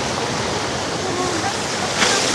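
Historic water features at a 17th-century waterpark in Germany gush and splash in a steady, loud, broadband rush that fills the whole stretch without pause.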